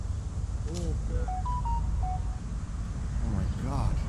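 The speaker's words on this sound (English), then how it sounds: "That's my phone going off on the video." A mobile phone goes off with a short run of rising and falling electronic tones, clear but moderate in level, while people talk in the background.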